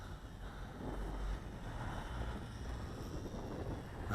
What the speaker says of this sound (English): Big gust kicked up now